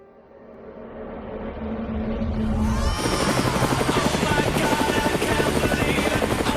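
A helicopter approaches and passes overhead above tall Douglas fir forest, its rapid rotor chop swelling from a distant drone to a loud, close thudding beat.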